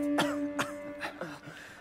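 A man in an audio drama adaptation of Les Misérables coughs in a series of four harsh, throaty bursts, close and moderately loud with brief pauses between them.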